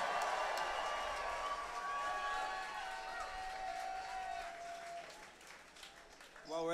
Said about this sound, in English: can we get a massive round of applause for the opening act tonight?